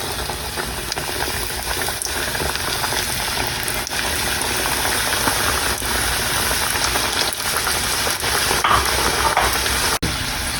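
Vegetable samosas deep fry in hot oil, giving a steady, dense crackle and sizzle that continues evenly throughout, close by, with no talk.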